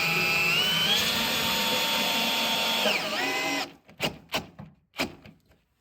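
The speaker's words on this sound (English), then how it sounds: "I take a power drill and the long screw" A power drill drives a long screw into a pre-drilled hole while building a mobile solar station from an old trailer. A steady, loud whir rises in pitch and runs about three seconds, then winds down, followed by a few sharp clunks and knocks.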